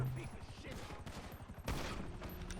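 Gunfire in GTA Online, a rapid fusillade of overlapping shots that keeps up throughout, with a louder burst near the end, heard over background game noise.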